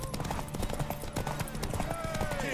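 Rapid hoofbeats of a galloping horse in The Witcher 3: Wild Hunt clatter in a quick rhythm, with a voice talking over them and game-like sound effects.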